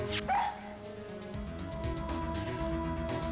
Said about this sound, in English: He's a canine police dog still in training.